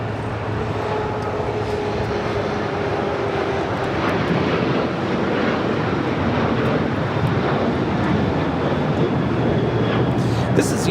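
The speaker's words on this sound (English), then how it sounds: "2234 taking off to San Francisco on a 737-900ER" A United Airlines Boeing 737-900ER takes off at LAX in a loud, sustained broadband jet roar that holds steady for over ten seconds, with some wind buffeting and a faint voice underneath.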